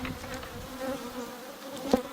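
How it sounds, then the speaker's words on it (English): Honeybees gather on a horizontal hive box in a garden, giving a steady, fairly close buzzing with a few louder passes as single bees fly near, heard alone with no talking. "Looks like there's a good number of bees hanging out on there."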